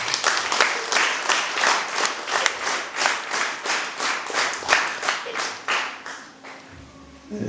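Audience applauding a teacher at a church youth group gathering, a burst of rhythmic clapping in unison, loud and close, beating steadily for about seven seconds before trailing off.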